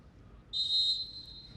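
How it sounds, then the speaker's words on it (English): A referee's whistle at a women's football match in the CAF Women's Champions League, Bayelsa Queens against Wadi Degla, sounding as one steady blast of about half a second over low stadium noise. "the referee blows the whistle"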